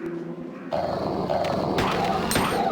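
A short, close dog growl from a video game starts abruptly after a quiet moment and rumbles on steadily amid game ambience.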